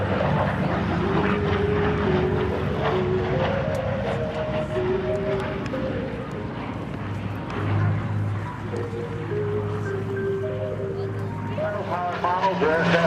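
A WWII P-47 Thunderbolt fighter passes at a military base airshow, its propeller engine droning and shifting in pitch as it goes by, with an announcer talking over the aircraft noise.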